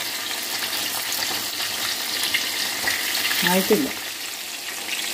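Chicken pieces frying in hot oil for chilli chicken, a steady broadband sizzle running throughout at moderate level, with a brief spoken phrase and a short clink near the end.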